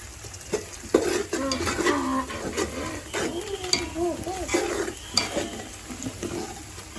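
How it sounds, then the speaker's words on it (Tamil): Spoon scraping and stirring mint and coriander through biryani in a pot, with soft repeated scrapes and clinks over a low background sizzle, and faint talk in the background. "நல்லா கிண்டி வச்சுக்கோ"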